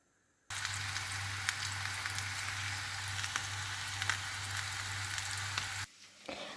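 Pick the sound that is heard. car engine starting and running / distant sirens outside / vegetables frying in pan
vegetables frying in pan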